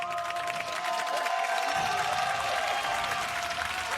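A packed esports arena crowd at the 2019 League of Legends Worlds Play-In match between CG and UOL cheers and applauds, a continuous wash of noise that swells midway, heard at a distance.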